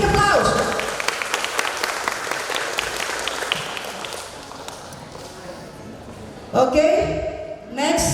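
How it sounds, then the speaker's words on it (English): Loud audience applause at an English speech contest between vocational high schools, a dense wash of clapping that thins out over several seconds before a short burst of louder sound near the end. "Give applause once more for all of us."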